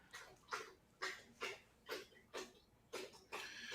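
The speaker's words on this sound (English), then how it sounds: "I hear somebody drinking. Is that your dog?" A dog drinks water, lapping in a steady rhythm of soft, quick splashy laps that sound faint and somewhat distant.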